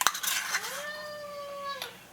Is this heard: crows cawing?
no